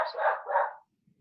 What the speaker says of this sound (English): Sorry for my dog, if you can hear her.